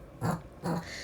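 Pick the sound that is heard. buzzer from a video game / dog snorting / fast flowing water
dog snorting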